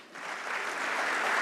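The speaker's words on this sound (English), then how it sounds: "let's give a huge round of applause" An audience at the TiEcon Mumbai 2019 conference applauds the keynote speaker, a dense wash of clapping that swells quickly and holds steady.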